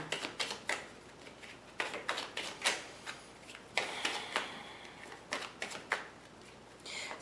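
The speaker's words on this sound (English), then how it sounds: "Okay, so I'm just going to continue shuffling here." Tarot cards being shuffled by hand, a run of crisp riffling bursts and soft flutters that come in clusters with short pauses between them, close and fairly quiet, with no voice.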